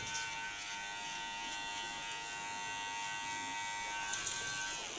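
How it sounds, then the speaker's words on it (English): Electric hair clipper buzzing steadily up close as it shaves the nape of a woman's neck, a continuous motor whine that shifts slightly in pitch near the end, with no speech. "And I don't even push hard on the clipper."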